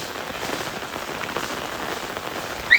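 Rain falling steadily in a village, a dense, even hiss of drops on surfaces heard close, with no talking.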